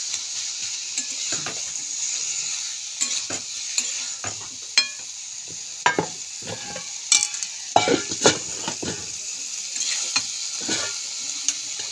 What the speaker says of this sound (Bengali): আর একটু তরকারিটাকে একটু ঘেটে ঘেটে দিতে হবে।